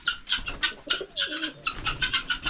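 Pigeons or doves give repeated soft cooing calls in a steady rhythmic series, fairly close and clear, with faint chirps and light rustling mixed in.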